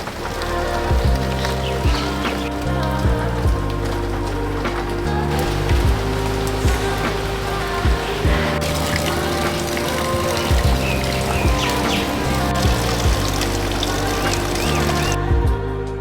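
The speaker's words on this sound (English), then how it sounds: "this is the first time it has actually rained during the day" Heavy tropical rainstorm pours steadily and loudly during the day in Fiji, drops drumming and splattering on nearby surfaces in a continuous dense roar.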